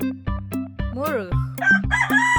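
A rooster crows once over a steady pulsing music beat, a short wavering call near the middle followed by a few higher, bright squawks, close and clear.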